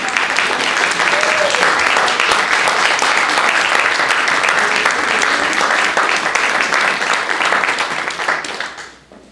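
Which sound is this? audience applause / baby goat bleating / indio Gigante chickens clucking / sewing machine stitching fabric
audience applause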